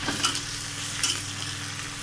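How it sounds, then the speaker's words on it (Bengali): Green chili, chopped onion, ginger and tomato sautéing together in hot oil for a fish curry, a steady close sizzle with a couple of brief louder bursts as the mixture is stirred. "এখানে আমি কাঁচা লঙ্কা দিচ্ছি আর পেঁয়াজ কুচোনো, আদা কুচোনো, টমেটো সব একসাথে আমি এখানে দিয়ে আবারও আমি ভালো করে কষিয়ে নিচ্ছি"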